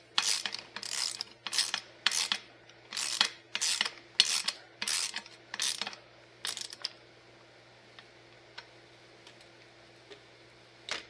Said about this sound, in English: tighten the other with the ratchet